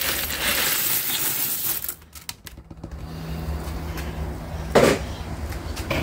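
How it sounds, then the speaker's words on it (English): Small RAM BGA chips tipped into a container of hydrochloric acid give a loud rattling, clinking pour, then a brief pause followed by scattered taps and a sharp clatter. "What I'm going to do now is I'm going to tip all these RAM BGA into here"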